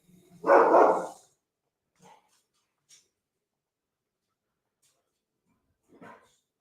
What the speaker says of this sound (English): we are dog sitting. A big one, a big mutt, black lab mix. And someone just came to the front door.